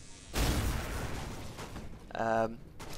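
A burst of rumbling, crackling blast noise from the video game Hard Reset swells up and fades over about two seconds, followed by a short harmonic electronic tone near the end.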